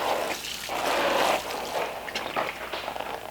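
Water is poured gently over freshly planted seeds, making a soft, steady splashing trickle close by that swells and eases in a few short pours.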